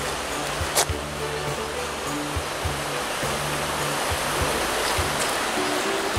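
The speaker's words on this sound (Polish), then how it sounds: "A w dole mamy rzekę Białolądecką." The Białolądecka river flows below a castle terrace, a steady broadband rush of water running continuously and fairly loud, with faint low hum and a brief knock partway through.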